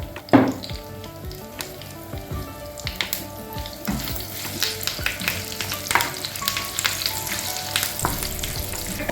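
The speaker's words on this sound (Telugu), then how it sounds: "ఇవన్నీ కూడా ఫ్రై అయ్యే వరకు కూడా స్లో ఫ్లేమ్ మీద ఫ్రై చేసుకుందాం" Garlic, curry leaves and tempering spices fry on a slow flame for spinach chutney, with a steady close sizzle, crackling pops and occasional stirring scrapes throughout.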